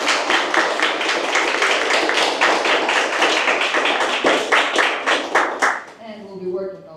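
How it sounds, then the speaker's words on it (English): Audience applause after a presentation of Irish universities to secondary school students, dense steady clapping for about six seconds that fades out, after which a voice speaks briefly. "So, a round of applause once again as a thank you."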